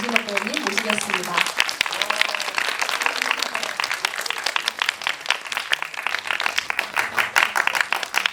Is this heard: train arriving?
no